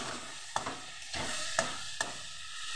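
Potato and eggplant fry in a pan with a soft, steady sizzle, broken by a few sharp clinks and scrapes as the pieces are stirred, heard quietly and up close.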